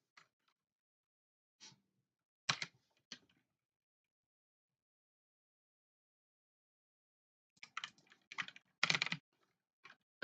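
Computer keyboard typing during a game-development session: scattered key clicks, a long quiet gap, then a denser flurry of clicks, all close and crisp.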